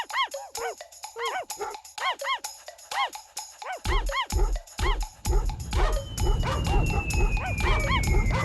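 Cartoon dogs in an animated short film give a fast run of repeated yapping barks and whimpers, close and loud, joined later by a rumbling low background and a falling whistle-like tone.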